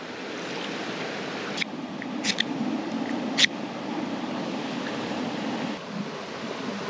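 A river flows with a steady, broad rushing wash, close and continuous, broken by a few faint clicks and knocks.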